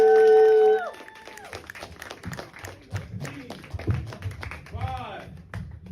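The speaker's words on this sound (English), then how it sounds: "Snap it up and clap it up for Lee Morr one time" A crowd at a poetry event snaps and claps for poet Lee Morr; quick scattered snaps and claps patter under a host's voice after a short tonal electronic sound at the start.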